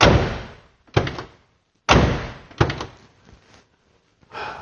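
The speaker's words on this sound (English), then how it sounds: "Convertibles tend to not sound so solid when you open and close the doors over time." A 1969 Oldsmobile 442 convertible door opened and shut several times, each close a loud, close, slightly hollow thunk followed by brief rattle, with pauses between; no one talks.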